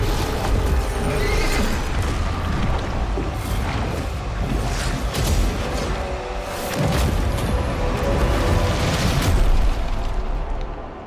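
A horse whinnies in the game The First Berserker: Khazan, amid a dense, rumbling wash of game noise with booms and crackling effects throughout.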